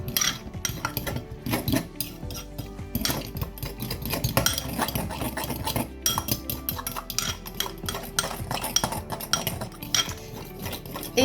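A fork mixes bowl cake batter in a bowl with continuous rapid scraping and clinking of metal against the dish, close and busy, with no voices.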